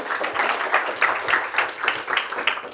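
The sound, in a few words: audience applause welcoming a speaker on stage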